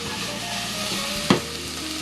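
Vegetables fry in a soup pot for a vegan green lentil soup, giving a loud, dense, continuous sizzle with one sharp knock of a utensil against the pot partway through.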